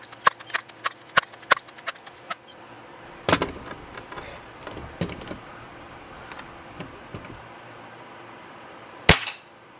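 A Crosman 362 .22 air rifle is pumped with a series of sharp clacks, then fired in one crisp snap at a 25-yard target on a hot day, close up and without speech.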